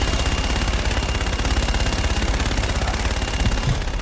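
Sustained rapid gunfire fills a space battle in the video game Call of Duty: Infinite Warfare, a dense, loud, continuous rattle of automatic shots throughout, with no speech.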